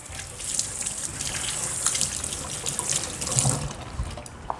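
Tap water running steadily into a kitchen sink while vegetables are rinsed for Korean doenjang jjigae, a continuous close hiss and splash with slight variations and no talking.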